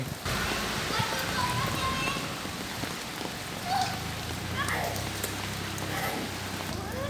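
Steady rain falls and patters on surfaces while children play out in it, a broad hiss throughout with voices and occasional brief calls mixed in.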